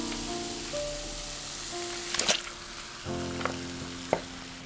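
Chicken frying in a pan with onion and tomato, a steady close sizzle with a few scraping stirs and clinks against the pan, no talking.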